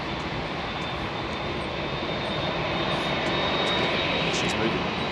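A Boeing 787 at London Heathrow, its engines giving a steady, loud jet roar that swells slightly toward the end, with a faint high whine above it.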